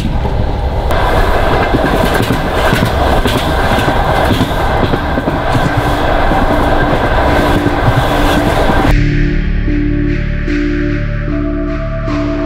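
A Russian overnight train carriage rolls along with a loud, steady rumble and rhythmic wheel clatter heard from inside, then settles into a lower, quieter hum with faint periodic clicks.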